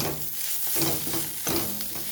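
A spatula stirs fried spice through a fish filling in a hot pan, producing a soft steady sizzle with rhythmic scraping strokes every half second or so, close and without speech.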